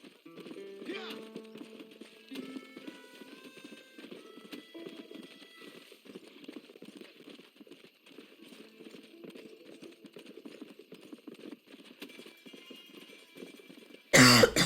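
A person coughs with a short rasp early on and again with a loud burst at the end, over quieter clip-clopping horse hooves and game sounds from Red Dead Redemption.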